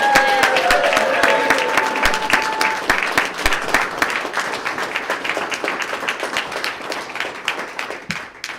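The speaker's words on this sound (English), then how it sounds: "Come on, let's give them another round of applause." An audience at a Sarasota police swearing-in ceremony applauds new officers in a steady burst of many hands that slowly thins and fades away toward the end.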